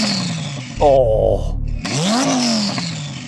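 A V10 car engine revs up and falls back, its rising and dropping engine tone loud and close, mixed with a brief exclamation from a voice.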